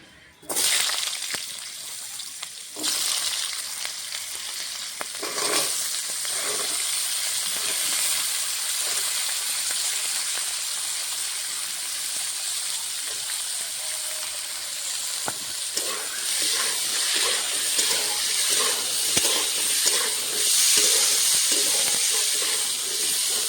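Washed potatoes and green peas hit a hot spiced oil tempering in a pan, giving a loud, steady hiss and sizzle with occasional stirring scrapes and no voices.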